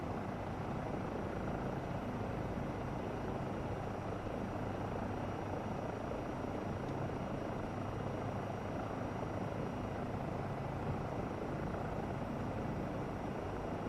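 Airplane engine in Microsoft Flight Simulator while the plane taxis to the runway: a constant, even engine drone that holds steady throughout, with no talk.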